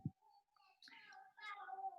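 A voice imitating a cat, two drawn-out, whiny meows in quick succession, faint and somewhat distant, preceded by a short low thump.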